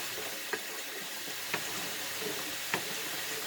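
A spoon stirs homemade tomato spaghetti sauce in a pot, giving three brief scraping strokes about a second apart over a steady, low sizzling hiss.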